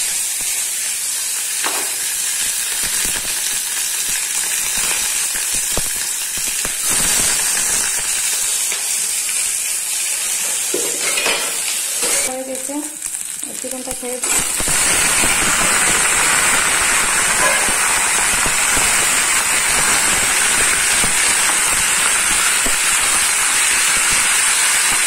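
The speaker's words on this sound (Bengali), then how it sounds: "আজকে আমি রান্না করছি চিকেন আর কড়াইতে তেল দিয়ে দিয়েছি" Chicken and bay leaf fry in hot oil in a kadai with a loud, continuous hiss and spray of sizzling. A burst of sputtering comes midway, then a fuller, steady roar of frying.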